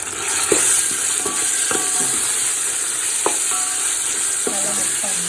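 Ginger-garlic paste in a 2:1 ratio frying loudly in a pan for chicken biryani, a strong continuous sizzle punctuated by sharp metallic clinks and scrapes as it is stirred.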